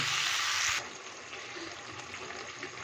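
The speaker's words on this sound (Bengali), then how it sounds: "ভালো মতো কষা হয়ে গেলে দিয়ে দেবো একটু অল্প করে জল" A short, steady gush of water pours into a pan of frying spices for a pumpkin and potato curry, then cuts off, leaving a soft, low sizzle.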